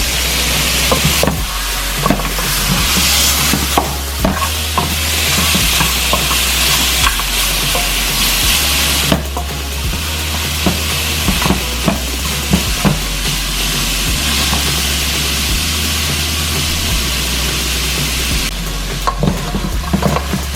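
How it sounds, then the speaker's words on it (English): Loud, steady sizzling of oxtail frying in a pan, with repeated scraping and knocking as it is stirred throughout, no voices. "just keep stirring it while it's sizzling"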